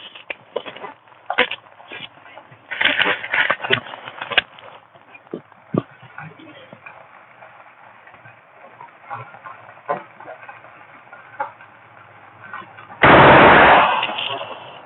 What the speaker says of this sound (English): Go ahead and just shoot 5 rounds to get everything ready.